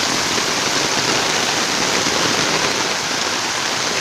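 Heavy tropical rain in far north Queensland, Australia, pours down as a loud, dense, unbroken hiss that stays even from start to finish, with no voices.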